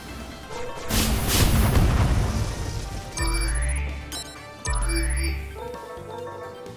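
Explosions in the sci-fi action video game Ghost 1.0: a broad roaring blast swells for a couple of seconds, followed by two separate heavy booms with rising electronic whooshes, set against a layer of game sound effects.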